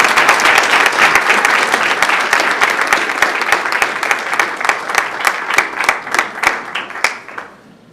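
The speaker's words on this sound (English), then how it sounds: "Let's give them a round of applause." An audience at a city council meeting applauds a girls soccer team that won a league cup tournament; many hands clap steadily and loudly, then the clapping tapers off and fades out near the end.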